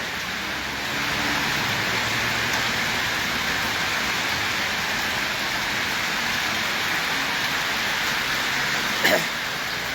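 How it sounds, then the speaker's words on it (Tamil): Heavy, steady rain pours down during severe flooding in Sri Lanka, a dense continuous hiss filling the whole scene with no voices. "மழை விடுவதாக தெரியவில்லை"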